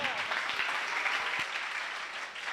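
Audience applause at a startup competition in Minsk as a presenter takes the stage, a dense, steady wash of clapping from a crowd that holds evenly and begins to ease near the end.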